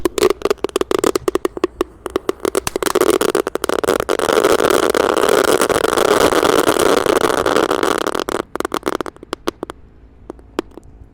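Three packs of Dino egg fireworks burn together in a hole in the ground, a loud roaring hiss of several seconds surrounded by rapid sharp crackles and pops that thin out at the end.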